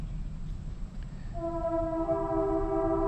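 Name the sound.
train passing on nearby railroad tracks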